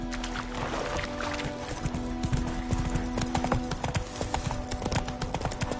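A horse's hooves clip-clop at a steady walking pace in The Witcher video game, close and fairly loud over a quiet ambient bed, with no talking.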